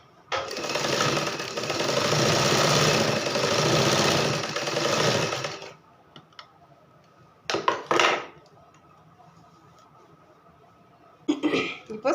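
A sewing machine runs close and loud while stitching blouse fabric in one continuous burst of about six seconds. After it stops, a few short handling clatters follow.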